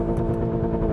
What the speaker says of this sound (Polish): I wtedy zaczynacie słyszeć i silnik, tudzież ten głośnik, który udaje silnik, ale udaje dobrze,